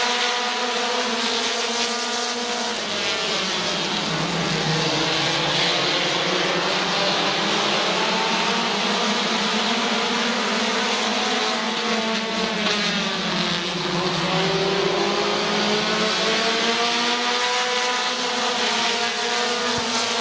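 Race cars at Midvale Speedway under green flag pack together in a continuous loud engine roar, with pitch sweeping up and down as cars pass throughout.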